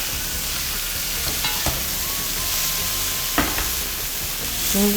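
Udon noodles with shrimp and bean sprouts sizzling and frying in a hot pan, a steady, loud hiss with occasional stirring scrapes throughout.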